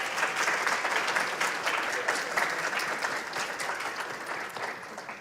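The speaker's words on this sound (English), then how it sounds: "give them a round of applause." Sustained applause from an audience at a student recognition ceremony, a dense, steady patter of many hands that stays loud throughout and eases slightly near the end.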